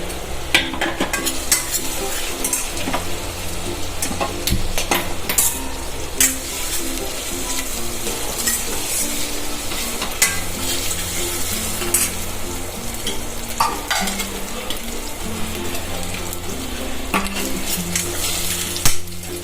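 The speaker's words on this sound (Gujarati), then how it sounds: "પછી આપણે એમાં નાખી દઈશું ડુંગળી નાખશું, જે એકદમ લાંબી સ્લાઈસ કાપી છે આપણે" Long-sliced onions frying and being stirred in a pan for vegetable khichdi: steady close sizzle with repeated scraping clatter of a spoon against the pot throughout, no talk.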